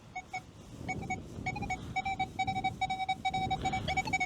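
A Nokta Legend metal detector emits repeated high electronic beeps, pulsing in short bursts over a low rustling background, close and steady, signalling a silver ring.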